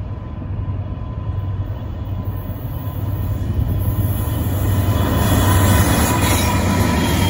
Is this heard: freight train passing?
yes